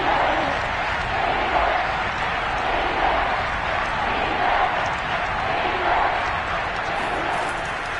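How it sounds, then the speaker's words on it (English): A football stadium crowd roaring steadily to urge on the home defense on third down, a dense, continuous wall of cheering and noise with no distinct breaks, loud throughout. "And this crowd urging on their defense."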